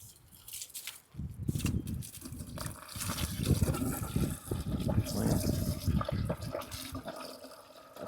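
Water is poured into self-watering plant pots as they are filled, a steady close-up splashing and gurgling stream that rises and holds for several seconds.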